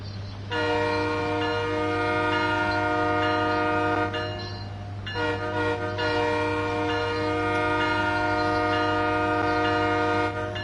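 A locomotive in the Train Sim World 4 railway simulator sounds a long, loud multi-tone horn, with a short break midway, over a steady low engine rumble.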